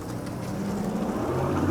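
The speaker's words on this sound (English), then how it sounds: "it does have the little louder, deeper exhaust from the factory" A deep, rumbling truck engine with a louder, deeper factory exhaust idles steadily up close, its low exhaust drone thickening slightly toward the end.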